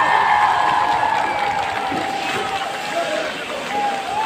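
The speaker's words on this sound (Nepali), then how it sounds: "यो सम्पूर्ण खेलाडीहरुलाई केही जोसको निम्ति हाम्रा मानवहरुले जोड तोडले ताली बजाएर स्वागत गरिदिने अनुरोध गर्दछौँ" Spectators at a village football final between Baghcha and Mothdora applaud and cheer in a broad, continuous crowd roar, with a faint tonal voice or loudspeaker sound running underneath.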